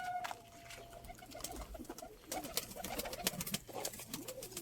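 Pigeons cooing in a backyard loft in Turkey, soft repeated low coos close by, with faint chatter and background noise underneath.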